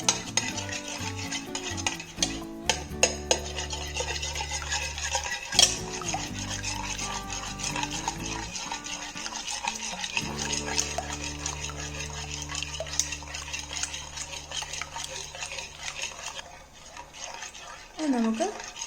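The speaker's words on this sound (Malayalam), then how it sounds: "ഒരു ബൗൾ എടുത്തിട്ട് അതിലേക്ക് 4 മുട്ട ഇട്ടിട്ട് നല്ലോണം അടിച്ചു കൊടുക്കണം" Four eggs whisked hard in a bowl for a vermicelli chattipathiri, giving a steady, continuous scraping and stirring rattle that runs close and fairly loud for most of the stretch, with other sound layered underneath.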